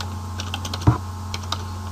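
A few light keystrokes on a computer keyboard while coding in Visual Basic .NET, with one firmer, louder key press near the middle, likely Enter, all close and quiet over a steady low hum.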